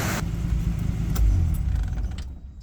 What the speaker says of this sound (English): See if I rev it up some.